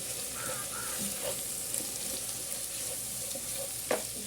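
Spice powders, including Kashmiri chili powder and coriander powder, are stirred in a frying pan with a soft, steady sizzle and occasional light scrapes, fairly quiet and without any voice over it.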